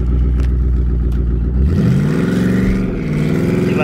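A Mustang drag car engine held on a trans brake, idling with a lumpy rumble that then rises into a loud rev and launch, close and loud with no talking.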